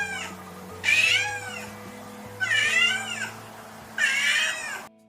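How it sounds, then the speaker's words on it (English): A cat meows three times in drawn-out, wavering cries, clear and close, with pauses between each call over a low steady hum; the cries suggest an anxious cat left alone. "sometimes cats will express their anxiety vocally. This type of behavior may be meowing"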